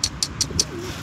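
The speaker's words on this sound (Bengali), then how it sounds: "চারোদিকে কবুতরের মেলা" A flock of pigeons in Italy coos close by, soft low throaty calls mixed with four evenly spaced sharp flutters or wing claps over about a second.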